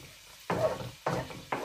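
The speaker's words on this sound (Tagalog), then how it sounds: "ilalagay ko na guys yung aking onion" Onion dropped into a hot pan for Filipino-style chicken curry, giving bursts of sizzling with stirring scrapes, loud and close, in three separate surges.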